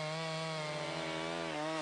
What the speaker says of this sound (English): An 18-inch chainsaw running at 3 horsepower will easily cut all the timber you want